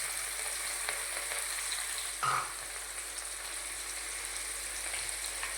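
Dry onion sizzles steadily in hot oil in a pan, a soft, even crackle with one brief stir or clatter midway, quiet and with no voices.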